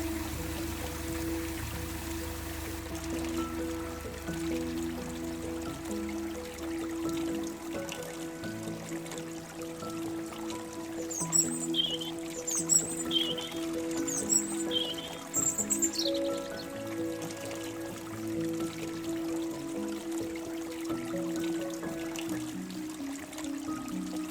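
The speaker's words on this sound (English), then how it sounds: "Just the gentle sound of the water and machinery on the bankside." Gentle water flowing by a riverbank with machinery on the bankside, a steady soft wash under a low hum, with faint bird chirps coming in partway through.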